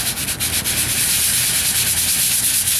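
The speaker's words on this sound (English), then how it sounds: "block sand with 36 grit on the metal in the Bondo" Coarse 36 grit sandpaper on a sanding block worked over Bondo body filler and bare metal on a 1998 Ford Ranger driver's side wheel arch repair, giving a loud, close, continuous rasping scrub with quick back-and-forth strokes.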